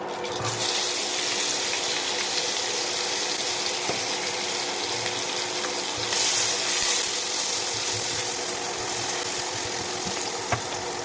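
Onion, garlic, green chillies, dried chillies, bay leaf and whole spices sizzle in hot oil, a steady loud hiss that continues throughout with a brief swell partway through, no talking.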